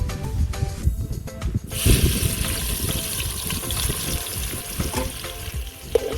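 Chopped onion sizzles and fries in hot oil for a kaju gathiya curry, a steady crackling hiss that jumps in brightness partway through, with occasional stirring knocks up close and no talking.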